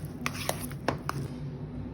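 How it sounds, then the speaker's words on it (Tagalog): Knife chopping bacon into small pieces on a cutting board, a handful of sharp, irregular taps close up over a low background hum, with no talk. "Atong i-chop ang bacon into small pieces"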